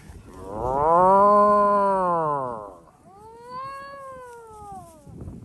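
A bull or cow moos in two long, drawn-out calls, the first loud and full-throated, the second thinner and quieter, close with a faint outdoor background.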